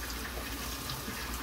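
Tap water runs steadily over dyed polyester chenille yarn being rinsed at a sink, a soft, continuous close splashing flow with no voices.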